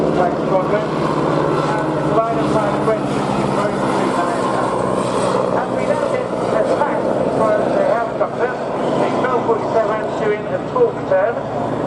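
A Scout helicopter flies a display manoeuvre at the RNAS Yeovilton International Air Day, its engine and rotor drone loud and continuous while an announcer's voice talks over the public address throughout.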